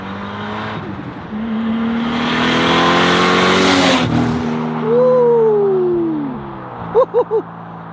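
Nissan Skyline R33 accelerating hard past during a flyby, the engine note climbing loudly as it nears, then dropping away into the distance, followed by a few short sharp bursts at the end.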